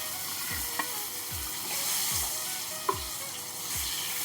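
Sliced brinjal fries in hot oil in a pan for a spicy masala begun fry, a steady loud sizzle broken by regular stirring scrapes about once a second, with no talking.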